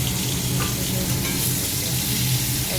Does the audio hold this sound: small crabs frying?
yes